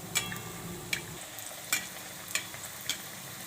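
Oil drizzled over a rava (semolina) snack frying in a pan, with soft crackling and sizzling and a few sharp spits and pops at irregular intervals, fairly quiet and close.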